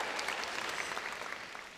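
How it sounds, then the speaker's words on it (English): Audience at an alumni welcome event for the Class of 2019 breaks into applause, a dense, steady burst of many hands clapping that fills the short moment. "Yeah, you can applaud for that smile."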